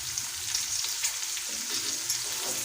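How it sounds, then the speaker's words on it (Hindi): Peas sizzle and fry in a pan for an egg and peas curry, a steady dense crackle held throughout at close range, with no voices. "मटर जब अच्छे से हमारे फ्राई हो रहे हैं तो हम अच्छी तरह फ्राई करेंगे।"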